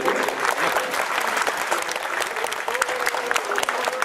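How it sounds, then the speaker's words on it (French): Guests at a reunion banquet for elders applaud together, a continuous dense clatter of many hands that swells and dips slightly over four seconds, moderately loud and close, with a voice faintly audible underneath. "Vous pouvez l'applaudir."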